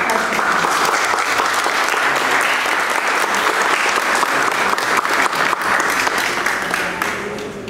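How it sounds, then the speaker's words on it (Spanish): An audience applauds the artist Paco Rey at the opening of an art exhibition in a park, a dense, steady clapping that fills the space, loud and continuous before tapering slightly at the end. "Un aplauso para Paco."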